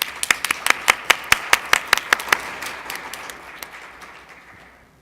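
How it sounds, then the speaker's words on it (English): An audience at a legal lecture breaks into applause: a burst of sharp, fairly close hand claps that swells briefly, then thins and fades out over several seconds. "I think they deserve a round of applause."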